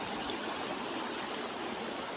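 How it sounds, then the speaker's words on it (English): A brook beside a hiking trail on the descent of Mount Moosilauke along the Appalachian Trail gives a steady, close, broadband rush of flowing water with no voices. "Here's our brook that we've been following for ages."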